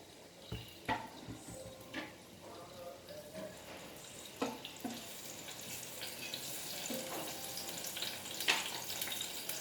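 Dry whole spices hitting hot oil in a pressure cooker for Goan-style pulao rice: a quiet, steady sizzle with scattered pops and clinks of utensils, close and soft, with no voice over it.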